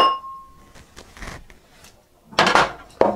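A spoon scraping and knocking in a pot of beef stew with tomato sauce, chili pepper and walnuts, several irregular clinks and scrapes with quiet gaps between, fairly close.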